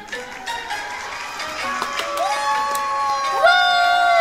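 Fans at a K-pop cheering practice with Kwon Eunbi shout and cheer together, a dense crowd roar with rising whoops and a loud swell near the end.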